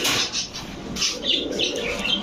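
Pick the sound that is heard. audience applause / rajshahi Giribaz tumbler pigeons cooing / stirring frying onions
rajshahi Giribaz tumbler pigeons cooing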